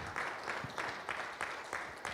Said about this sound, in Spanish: Damos palmas al Señor esta noche.